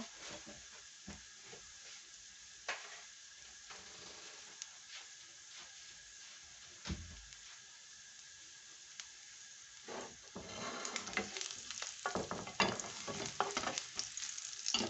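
Pork and pig blood fry and get stirred in a pan, with a steady close sizzle and scattered scraping stirs that grow louder and busier toward the end.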